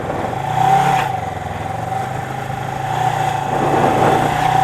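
A cafe motorcycle engine runs while riding, a close, steady drone with gentle rises and falls as the throttle changes, over road and wind noise, with no talk.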